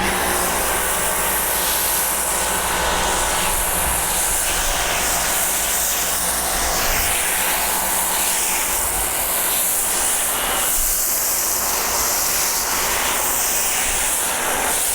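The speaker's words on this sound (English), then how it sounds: "Let's see what happens when we foam with this instead." Ryobi automotive pressure washer on max foam setting sprays thick foam from a foam cannon onto a vehicle, a steady loud broadband hiss that holds unbroken throughout.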